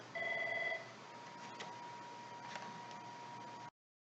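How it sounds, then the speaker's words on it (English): A telephone rings once in a short electronic trill, a steady tonal burst that cuts off and leaves a faint hum with a few soft ticks, no voices. "Always the bloody way the phone goes."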